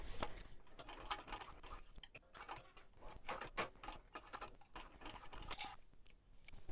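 A sewing machine stitches a wristlet seam with a 1/8 inch seam allowance, running a steady, fairly quiet mechanical patter of rapid needle strokes with small bursts and pauses, close by.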